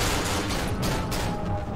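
Rapid gunfire in the horror game Cry of Fear crackles in a dense burst of overlapping shots, loud and close for under two seconds.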